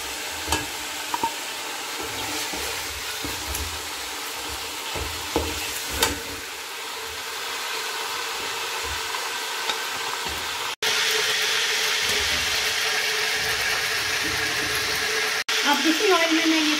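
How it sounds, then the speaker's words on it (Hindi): Food frying in hot oil while cooking chicken pulao, with a dense, steady sizzle and soft stirring clinks. The fry grows suddenly louder and brighter partway through and jumps again near the end. "ये देखें, अब ये मैंने फ्राई कर लिए और अब मैं इसे निकाल दूंगी।"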